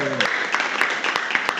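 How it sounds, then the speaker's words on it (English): An audience applauds at a retreat talk, steady clapping across the whole moment, with a voice speaking briefly at the start. "Alex, and everyone, please give a round of applause"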